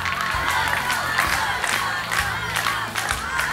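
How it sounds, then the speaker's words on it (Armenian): Crowd applause and cheering from a live television talent-show gala audience after a performance, dense steady clapping with shouts and whoops rising throughout, no clear speech. "եւս մեկ անգամ ծափարենք հիանալի կատարման համար"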